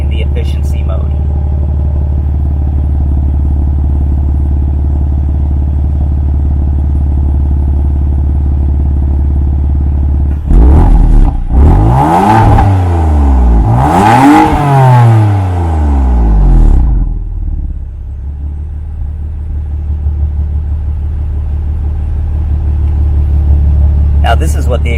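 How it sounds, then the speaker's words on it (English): A BMW F82 M4 exhaust in efficiency mode burbles at a low, steady idle, then rises through two revving sweeps before settling back to a deep rumble. "This is what the exhaust sounds like in the efficiency mode."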